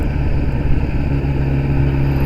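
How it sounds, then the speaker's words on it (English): A Kawasaki ZX10R sport motorcycle engine idles steadily nearby, giving a loud, even, low-pitched burble that holds constant without any revving. "it holds a nice steady tick over"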